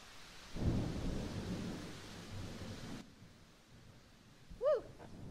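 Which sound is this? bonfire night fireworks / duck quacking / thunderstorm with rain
thunderstorm with rain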